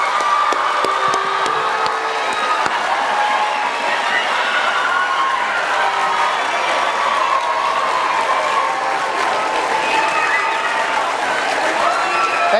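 A large crowd at a Bill Nye school event applauds and cheers loudly, a continuous wash of clapping with shouts and whoops layered on top, sustained at full volume throughout.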